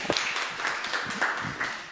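Audience applause for a man named Jesús at a conference on elections: a brief, dense burst of clapping from a gathered crowd, steady and fairly close, with no voices over it.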